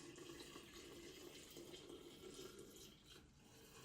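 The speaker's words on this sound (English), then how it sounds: "then I'm just going to pour in my water" Water being poured into a roughly five-cup pitcher of Japanese sencha green tea with peppermint and sage, a steady continuous splashing stream at moderate level that eases briefly near the end.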